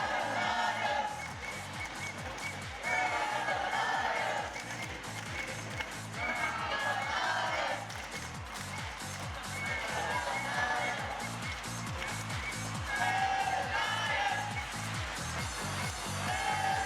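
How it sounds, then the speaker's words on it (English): Crowd noise fills the arena at an FTC robotics league championship as spectators cheer for their alliance, a steady loud roar with rhythmic stamping or clapping throughout. "That's right. Cheer for your alliance."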